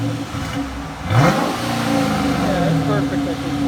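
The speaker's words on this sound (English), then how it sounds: "We'll let you hear it when they rev it in a minute." A 2013 Dodge Challenger R/T with dual exhaust and muffler delete revs up, its engine rising into a deep throaty roar about a second in and holding steady and loud, with voices faintly present.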